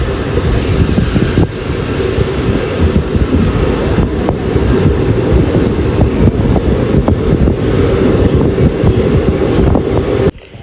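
Near Thodiyappulam railway station on the Nilambur road route, a train rumbles past close by in the rain, a loud, continuous roar of wheels and wind with faint rhythmic clatter lasting about ten seconds, then cutting off abruptly.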